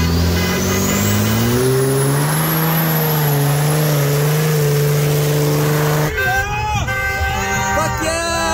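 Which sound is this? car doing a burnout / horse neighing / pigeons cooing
car doing a burnout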